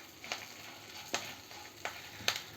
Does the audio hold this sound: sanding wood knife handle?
no